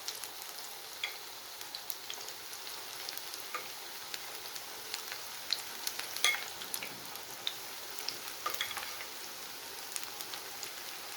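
Spring onion pakoras fry in hot oil with a soft, steady bubbling sizzle and fine crackle, faint and even throughout without talk.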